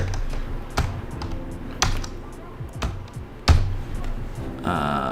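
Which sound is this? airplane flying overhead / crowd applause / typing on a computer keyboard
typing on a computer keyboard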